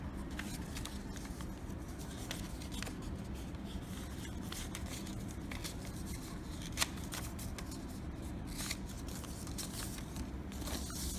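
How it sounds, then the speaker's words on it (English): Paper is creased and flattened by hand while folding a paper boomerang, giving soft, repeated scraping and rubbing strokes, close and fairly quiet, with no talking. "And just crease well."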